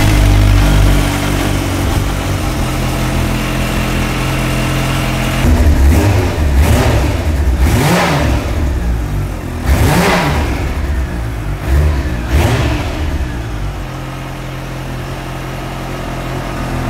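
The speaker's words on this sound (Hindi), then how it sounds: "मुझे आप इसका जो अपना एग्जॉस्ट है उसका साउंड सुनवा सकते हैं?" Kawasaki Ninja H2 motorcycle exhaust, loud and close, idling with a steady rumble and then blipped through several sharp revs that rise and fall before settling back to idle.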